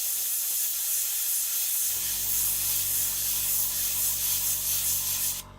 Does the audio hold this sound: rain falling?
no